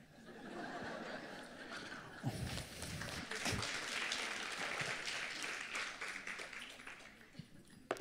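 A live comedy audience applauds throughout, with scattered laughter and chuckles mixed into the clapping, swelling partway through and then tapering slightly.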